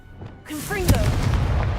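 A Confringo fire spell in the Hogwarts Legacy video game: a rising magical whoosh that bursts into a loud, close explosion with a rumbling tail.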